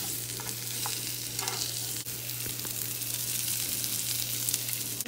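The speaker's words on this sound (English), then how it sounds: "Now while that's frying" Steady sizzling of fish frying in a pan for fish tacos, a continuous hiss with a few small pops and clinks, close and fairly loud.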